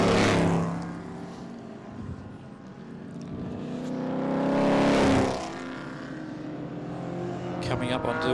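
A touring race car at the A&C Winton Festival of Speed sweeps past on the track, engine rising to a loud peak then fading, with another car approaching at the end, under continuous commentary talk.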